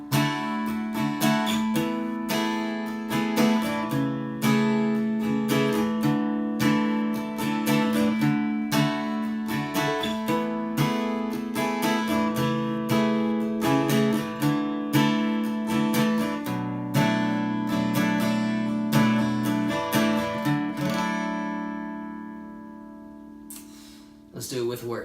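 Acoustic guitar strumming the pre-chorus chords of a song at a slow tempo, steady repeated strums ringing out alone with no singing for about twenty seconds before fading.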